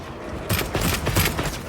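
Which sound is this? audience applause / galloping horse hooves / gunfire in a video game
gunfire in a video game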